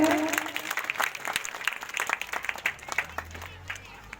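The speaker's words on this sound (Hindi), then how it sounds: "जोरदार तालियां बजाते रहें।" Audience at a village talent-exam award ceremony claps steadily in a dense burst of applause, with a crowd murmur and a voice over the clapping.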